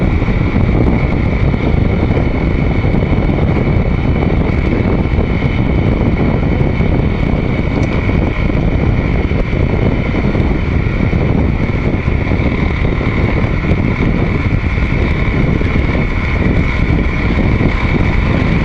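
A Honda CRF300L rides along a forest road, its engine drone blending with loud, constant wind rush over the microphone that holds steady throughout.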